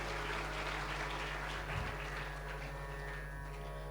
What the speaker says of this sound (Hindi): तो आप एक बार जोरदार तालियां मनोरथी परिवार के लिए पाड़िए।